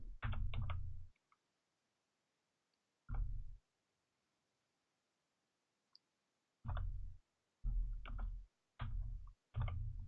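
Bursts of computer keyboard typing in a quiet room, several quick clusters of key clicks separated by pauses, close and crisp with no talking.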